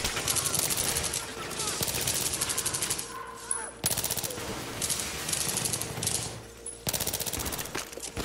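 Rapid automatic gunfire from a newly unlocked gun in Battlefield 3 co-op mission Hit and Run, loud sustained bursts with brief pauses between them, layered over dense game battle noise.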